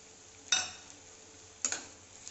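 Potatoes frying in a pan with turmeric and salt, with hilsa fish oil going in: a steady low hiss of frying, broken by two short, sharp scrapes of a spatula against the pan about a second apart.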